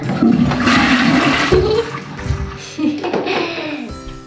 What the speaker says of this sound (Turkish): Sifon basalım.